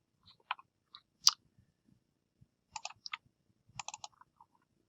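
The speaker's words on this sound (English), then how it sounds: "So left click, then right click." A computer mouse is clicked with left and right buttons while saving images, making a handful of crisp, isolated clicks in short clusters against a quiet room.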